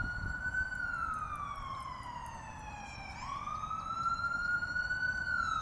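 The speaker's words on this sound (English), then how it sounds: "I'm like, dang, another siren." A wailing emergency siren, likely a police car, passes outside, its pitch sweeping down then back up as it continues steadily and fairly loud throughout with no talking.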